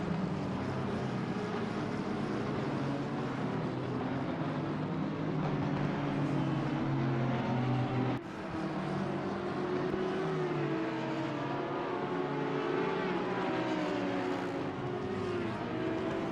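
Race cars, including an Aston Martin, roar around the Hungaroring circuit in a racing video game, a steady loud engine drone with shifting pitch running continuously with a brief dip midway.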